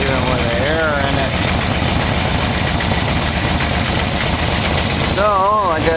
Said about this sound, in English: pretty obvious to tell that those 2 carburetors are not synced